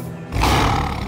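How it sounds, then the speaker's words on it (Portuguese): A cartoon lion lets out a loud, close roar that bursts in after a brief lead-in and holds steady for under a second, heard alone. "Um leão!"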